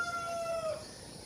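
A rooster crows once on a Philippine farm among chickens, a single drawn-out call that falls in pitch, fairly faint and set against a steady airy background with no voices.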